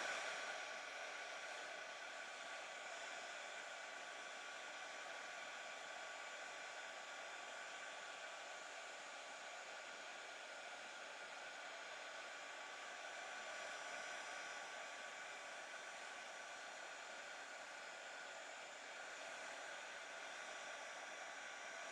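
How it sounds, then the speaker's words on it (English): A heat tool blows a steady, even whoosh throughout while heating embossing powder on a steampunk spellbook cover, constant and close with no talk. "So we're just going to heat the embossing powder."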